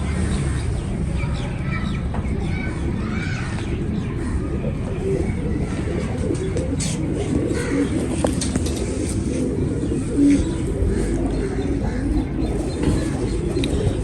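Pigeons cooing in a breeding loft, soft repeated coos and bird calls mixed with other poultry, heard close against a dense, constant background of outdoor noise.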